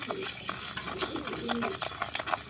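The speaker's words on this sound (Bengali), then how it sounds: "এইভাবে ভালো করে ফেটে নিতে হবে, যাতে তিনটে জিনিস ভালোভাবে মিশ্রণ হয়ে যায়" Quick, irregular scraping and tapping as a sugar, salt and curd mixture for pigeon feed is beaten by hand, close and fairly loud over a few seconds, with faint bird coos in the background.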